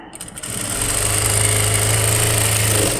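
A sewing machine runs hemming stitches on a new-model sleeve design, a steady loud motorized whir with a fast rhythmic drone that starts up after a brief pause and holds evenly to the end.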